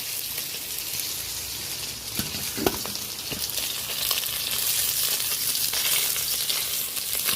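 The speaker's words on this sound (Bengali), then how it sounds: "আরও কয়েক পিস আছে, সেগুলো আমি এই সেমভাবে ভেজে নেব।" Pieces of khoira sea fish frying in hot oil, with a dense, continuous crackling sizzle and a few louder pops and spatters early on, close and steady with no talk.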